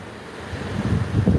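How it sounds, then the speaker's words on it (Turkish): Small sea waves lapping nearby at a beach, a low continuous wash that swells slightly toward the end, with a light breeze and no voices. "Çok az bir esinti var. Küçük küçük dalgalar var."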